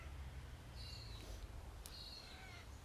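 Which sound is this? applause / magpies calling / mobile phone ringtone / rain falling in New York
magpies calling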